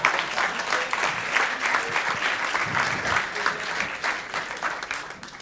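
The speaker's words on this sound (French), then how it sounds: "Et on peut l'applaudir" An audience at a talk by an entrepreneur applauds steadily for several seconds, a dense, even wash of clapping that stays fairly loud throughout, with a faint voice underneath.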